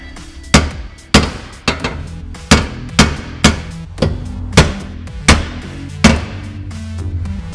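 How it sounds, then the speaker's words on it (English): A sledgehammer pounds a steel frame rail up into place under a Mazda Miata, about eleven loud, sharp metallic blows at a roughly steady, slightly uneven pace, ringing close with no talking. "now that I hammered the frame rail up here"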